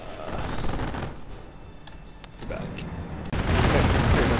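Assault rifles and machine guns rattle in sustained bursts in the World War II strategy game Company of Heroes, fairly loud with scattered booms, while unit voice lines and other game sounds overlap.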